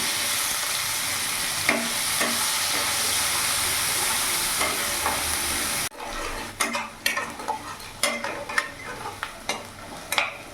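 Finely chopped onions go into hot oil in a pan for a fish-head curry, giving a loud steady sizzle, then a sharp drop into softer frying broken by repeated scrapes and knocks of stirring.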